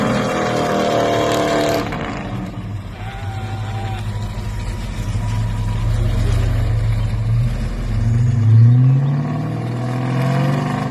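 Chevy donk riding on 34-inch rims drives along outdoors, a steady low engine rumble with a louder surge near the end, plus some faint background voices.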